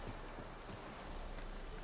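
Roach the horse from The Witcher 3 moving with soft, steady hoof clip-clops, faint and somewhat distant under a continuous game ambience with no talk.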